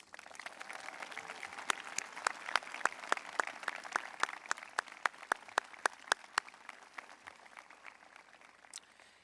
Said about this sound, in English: offer them a round of applause as a final tribute to their